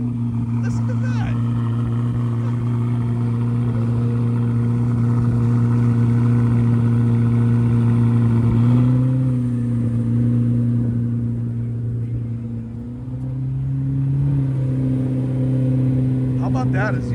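A Corvette C8 ZR1 exhaust revs loudly and steadily at close range at an outdoor car gathering, its deep droning note rising and falling over about seventeen seconds with brief pops.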